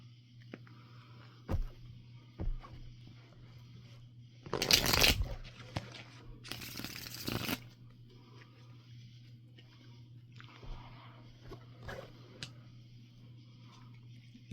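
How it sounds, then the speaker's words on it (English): A deck of tarot cards being shuffled in a few distinct bursts, riffling and flapping close up, with soft handling taps and quiet gaps in between over a low steady hum. "One more shuffle."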